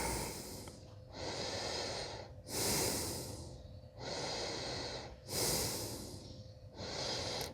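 Slow, deep breaths during a stretching routine, close and loud, with three long airy inhales and exhales in a regular rhythm and a faint nasal edge, and no talking.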